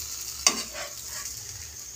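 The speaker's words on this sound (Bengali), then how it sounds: "এইভাবে করে ভাজা করে নেব।" Bread rolls fry in soybean oil on a tawa, giving a steady soft sizzle with one sharp clack of a utensil early on, close and clear with no talking.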